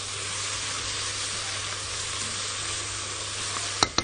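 Bell peppers, tomatoes and onion fry in a pan with a steady, dense sizzle that runs evenly throughout, with a couple of brief clinks near the end.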